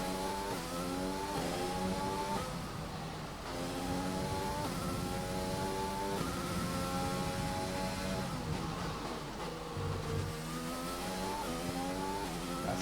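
Formula 1 car engine in the F1 2020 game, revving hard through repeated gear upshifts with rising whines and short dips between, loud and continuous with no voices.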